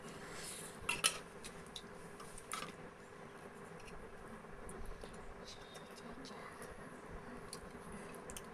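Faint clinks of utensils against plates and pots as red mutton curry with whole cumin is served at home, a few sharper taps early on and softer scrapes after, with a voice talking throughout.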